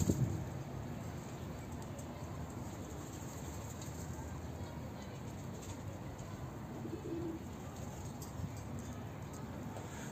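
Birds in a poultry coop coo and call softly through a steady, dense wash of background noise that runs the full length.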